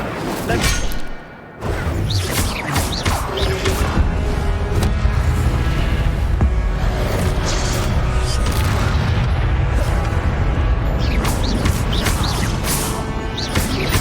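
Incendio fire spell cast in the video game Hogwarts Legacy, loud booming bursts and whooshing blasts layered over dense continuous game effects and music, nearly unbroken after a short lull at the start.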